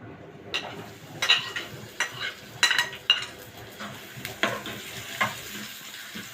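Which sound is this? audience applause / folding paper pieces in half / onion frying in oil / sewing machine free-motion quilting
onion frying in oil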